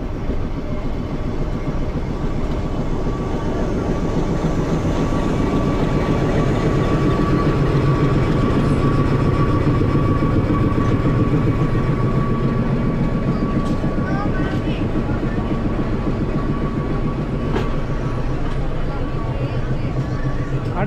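Ooty toy train pulled by a steam engine between Mettupalayam and Ooty, giving a steady loud rumble and clatter of carriages that runs unbroken for about twenty seconds.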